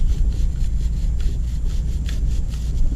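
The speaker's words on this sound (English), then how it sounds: "Going to brush the chain to loosen up any dirt that needs to be loosened up." Stiff brush scrubbing the chain of a 2023 Ninja 650 motorcycle coated with an oily cleaner, giving a steady, close rhythmic scraping in repeated back-and-forth strokes with no talk.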